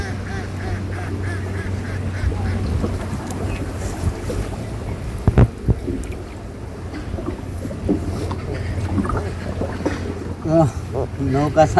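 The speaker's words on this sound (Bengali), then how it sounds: "নৌকা চালাইতেছি" A wooden boat is rowed across open water on a hot day in a Bangladeshi village, with steady low water and wind noise and soft knocks and splashes, while people talk now and then nearby.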